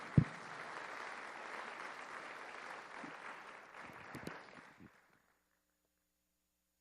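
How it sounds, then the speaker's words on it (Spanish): A church audience claps steadily at moderate volume during a sermon, the applause running about five seconds with a few louder claps before stopping abruptly into silence. "Lindo aplauso"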